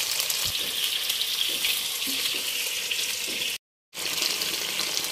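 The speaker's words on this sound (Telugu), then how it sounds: "చికెన్ ఫ్రై చేస్తానా" Chicken leg pieces for a fried-piece chicken biryani sizzle in a pan with a steady, close hiss that cuts out briefly near the end and then resumes.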